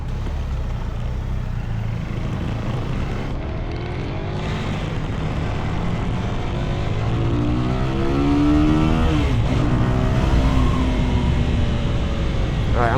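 Motorcycle engine running loud and close, a steady drone that swells as it revs before launch, with no talking over it.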